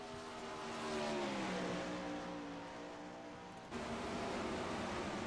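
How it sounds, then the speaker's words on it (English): Sprint cars roar around the Knoxville Raceway track in a World of Outlaws event, with a distant, faint engine whine that rises and sweeps over a steady wash of background noise. "I'm just watching a couple of cars on the racetrack"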